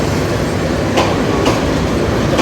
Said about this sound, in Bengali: এই ট্রেনটা ঢাকা থেকে এসে যাচ্ছে আন্তনগর,